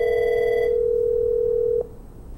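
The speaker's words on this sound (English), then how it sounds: "we should be able to make some phone calls here." An Avaya IP Office softphone rings with a steady electronic tone that holds for nearly two seconds, with brief higher harmonics early on, then cuts off abruptly into quiet room noise.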